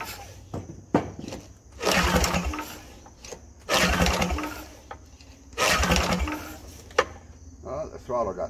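Riding mower engine cranking in several bursts, catching briefly and sputtering between pulls, close by and moderately loud.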